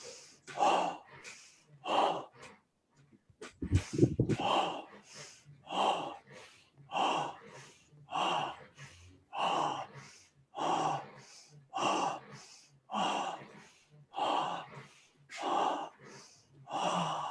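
Slow, deep breaths during a guided breathing exercise, each swell of air drawn in and let out at an even rhythm, close and fairly soft, with no talking.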